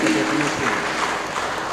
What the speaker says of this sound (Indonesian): boleh kasih tepuk tangan untuk program yang luar biasa ini